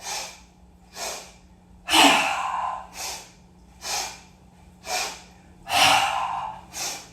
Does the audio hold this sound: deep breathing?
yes